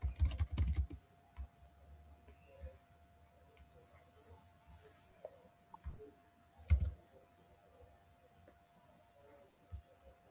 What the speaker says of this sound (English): Are you done typing?